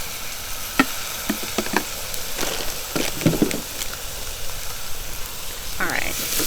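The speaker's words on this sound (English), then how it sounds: "Now I'm gonna add a heaping of garlic." Garlic sizzles in hot fat inside an Instant Pot, a steady close hiss broken by scraping stirs and clicks of a utensil, with a voice talking over it at times.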